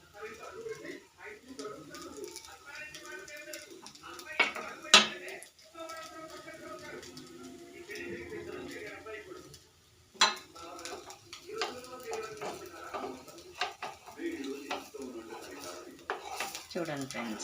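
Metal utensils clink and scrape against a pan while dosa cooks, with intermittent sharp clatters; a person talks over it and pigeons coo faintly in the background.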